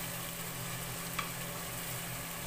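Onions frying in vegetable oil make a steady, even sizzle with one small tick partway through, close and quiet with no voices.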